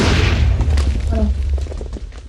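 A deep, loud TNT cannon blast in a video game booms at the start, then rumbles and fades over a couple of seconds.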